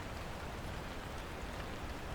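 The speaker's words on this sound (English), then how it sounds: "the steady, endless sound of the rain" Steady rain falls in a dense, even hiss with no breaks, faint and continuous like a downpour heard from a distance.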